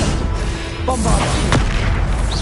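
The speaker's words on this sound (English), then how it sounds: "Bombarder!" Bombarda explosion spell in Hogwarts Legacy, a loud boom with crackling burst and rumbling debris amid battle effects, a brief shout heard too.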